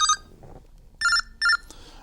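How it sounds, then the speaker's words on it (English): A telephone rings in short electronic bursts: one brief ring, a pause, then two closely spaced rings, loud and close with no talking. "You got a phone call?"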